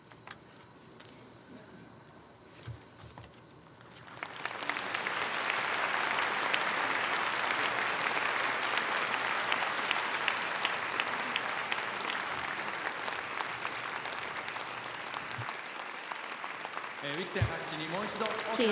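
At the Kyoto Prize ceremony, the audience breaks into loud, steady applause for laureate Dr. Witten after a quiet opening. The clapping holds for over ten seconds before dropping away as a speaker returns.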